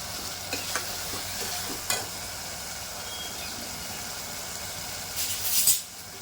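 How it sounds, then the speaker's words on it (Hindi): Spiced kidney masala, bhuna gurda, sizzles and fries in a pan while a spoon stirs it, with a few scrapes and clinks and a brief louder sizzle near the end, and no talking. "और इसकी बहुत ही अच्छे से अब भुनाई करेंगे, तो ये बहुत ही अच्छे से भुन जाए।"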